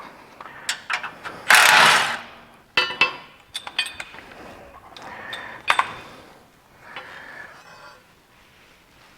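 A ratchet removes the 12mm sway bar bolts on a fourth-generation Suzuki Jimny, giving close, sharp metallic clicks and clinks in irregular bursts, with one louder rattling stretch and quieter pauses between.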